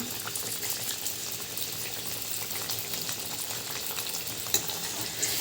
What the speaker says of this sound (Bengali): এখানে কিন্তু দেখো অলমোস্ট হয়েই এসেছে মাংসটা